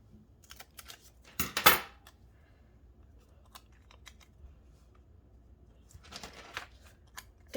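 Paper being cut with scissors while trimming a Happy Planner page diagonally: a sharp, close snip around the second mark, then quieter rustling and a second cluster of cutting sounds near the end, with no talking.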